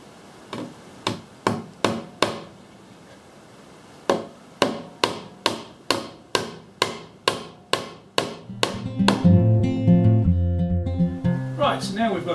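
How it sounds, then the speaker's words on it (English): Nails are hammered into a timber carry tray, or trug: a run of sharp, evenly spaced strikes, then a pause, then a faster run. A louder, denser clatter follows at the end. "And then nail it home."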